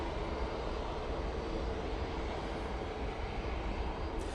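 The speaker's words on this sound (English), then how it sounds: "EasyJet to Malta now lined up ready to go, using the 321neo for this flight" An easyJet Airbus A321neo sits lined up for takeoff at Manchester Airport, its engines giving a steady, broad rumbling roar that holds even throughout, with no voices.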